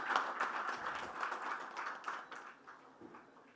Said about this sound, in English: Let's give Mr. Kumar a big, big round of applause.